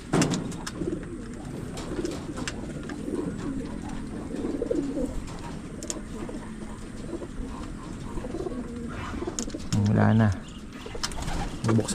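Pigeons coo in a backyard pigeon loft, soft repeated low calls mixed with rustling and ambient noise, one close coo standing out near the end, with a person talking at times.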